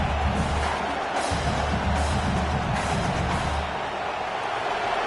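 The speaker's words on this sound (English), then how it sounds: "This crowd bringing the energy and noise early." A dense, continuous roar of a large home crowd at a Tennessee football game fills the air, steady and loud with no distinct voices standing out.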